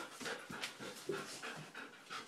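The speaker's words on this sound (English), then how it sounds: "That's such a good puppy." A puppy panting up close, with quick, rhythmic breathy huffs repeating steadily at about four per second, with no talk.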